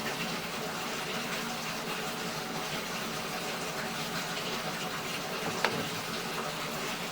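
Water rushing through a sewer drain pipe during a camera inspection, a steady broadband gush running unbroken throughout with one brief sharp knock near the end.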